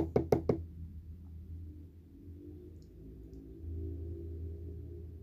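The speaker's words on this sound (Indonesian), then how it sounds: "Langsung dipaku memakai paku open yang tadi." Nails being hammered into a women's heeled boot during shoemaking: three quick, sharp blows close by at the start, then only a low room hum.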